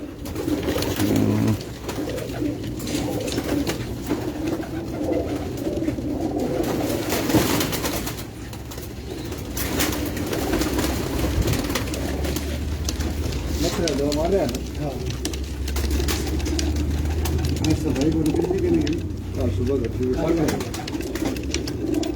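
Soft, repeated pigeon coos warble close by, mixed with rustling and shuffling noises, with voices talking at points.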